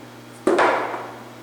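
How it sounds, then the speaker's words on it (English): A dead blow hammer strikes a metal part clamped in a milling machine vise, seating it on parallels: one loud, dull, damped thud with a short ringing decay over low shop hum. "I have a dead blow hammer here, and I would move it out of the way, and I would hit this with at least one"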